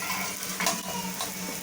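Ghee sizzling and crackling softly on a flipped aloo paratha in a pan, with a light scrape of a spatula midway, close and low-level, no talk.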